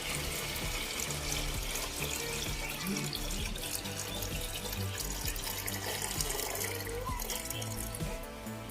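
Water runs continuously from a tap into a bottle, a steady gushing splash with faint ringing tones, close and uninterrupted.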